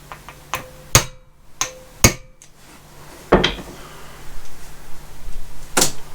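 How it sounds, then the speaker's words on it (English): An impact screwdriver works a drain nut on a 2014 Mariner 20 hp outboard engine, producing several sharp close metallic cracks and knocks at irregular intervals, followed by a sustained low rattling and clatter. "doing it exactly the same as we did just now with that impact screwdriver"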